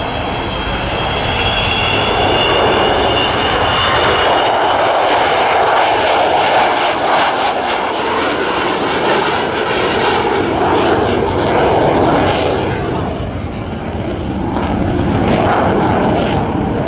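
An Avro Vulcan XH558 bomber doing a low, slow, wheels-down fly-past at RIAT RAF Fairford, a loud sustained jet roar with a rising howl that fills the whole stretch before easing slightly near the end.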